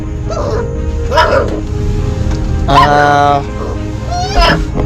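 A dog barks a few times at moderate distance while people talk nearby, the barks rising briefly above the conversation.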